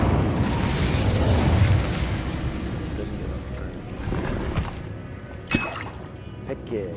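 Incendio fire spell blasts from the Hogwarts Legacy video game roar loudly at first, then fade into a rumbling, crackling tail with a few sharp pops toward the end.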